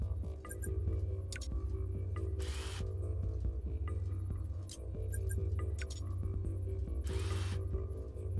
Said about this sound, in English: Put the chassis bolts back in.